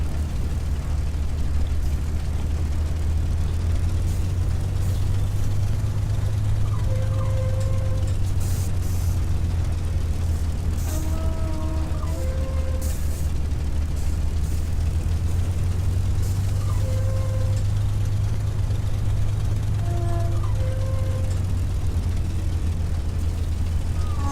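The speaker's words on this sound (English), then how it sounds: "Gonna turn the fuel cocks off, let the engine run until it gets a little bit rough." Spitfire engine idling steadily after the fuel cocks are shut, in the A2A Simulations flight simulator with Accusim: a continuous deep low drone with a faint propeller throb, holding even throughout with brief tonal chirps in the cockpit.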